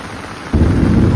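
Heavy monsoon downpour with thunder in Konkan, a steady rain hiss that swells abruptly into a loud low rumble halfway through, continuing close and strong to the end.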